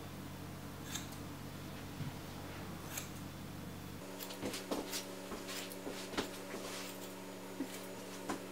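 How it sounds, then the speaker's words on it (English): Scissors snip repeatedly through a man's hair at an uneven pace, sharp close clicks over a low steady hum that grows slightly louder halfway through. "we're just gonna take the scissors and just chop at that piece"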